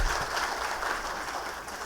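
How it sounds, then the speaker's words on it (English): At a national conference on tribunal law practice, an audience claps for the chief guest, a steady, somewhat muffled wash of applause heard from a distance in a large hall. "May I request all of you to give a big round of applause for our chief guest"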